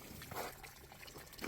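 Water pours and trickles out of a jug in a soft, faint splashing stream with a couple of louder gushes, quiet and close.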